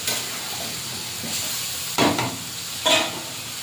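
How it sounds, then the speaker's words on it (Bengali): Chicken with spices sizzles steadily in a pan while a spatula stirs it, with two louder scraping strokes against the pan standing out over the continuous frying hiss. "কষতে থাকবো যতক্ষণ থেকে মাংস থেকে তেল না ছাড়ে ততক্ষণ পর্যন্ত ভালো করে কষতে থাকবে"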